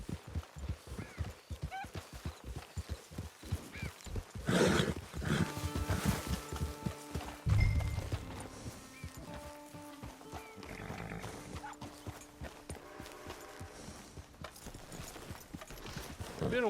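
Horse hooves clip-clop steadily in Red Dead Redemption 2, followed by snorts and a whinny from the animal, with game ambience and music underneath.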